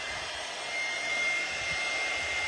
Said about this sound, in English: There's a couple things I'm going to just hit with the dryer real quick.